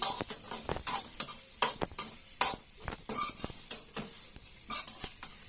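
Utensil scraping and stirring food in a pan, mixing an egg into a dry-fried dish, with repeated irregular clacks and scrapes over a soft sizzle, close and fairly loud, no talk.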